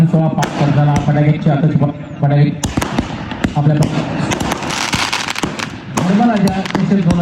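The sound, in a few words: firecrackers at a match opening ceremony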